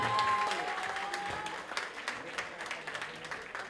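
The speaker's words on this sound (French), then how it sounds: "on l'applaudit très fort, s'il vous plaît" Audience at a Dakar fashion pageant applauding a contestant in traditional dress, moderately loud clapping with a few whistle tones early on, thinning toward the end while a voice speaks over it.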